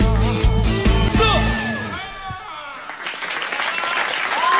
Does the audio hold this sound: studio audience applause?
yes